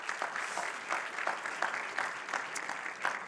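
Applause from a conference audience welcoming an IP law professor at a copyright conference, fairly faint and steady, a soft continuous patter of many hands with a few sharper claps standing out.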